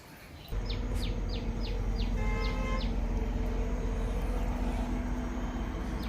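Crows calling to a food offering left on a house roof, a run of short repeated caws close by over a steady loud background rumble.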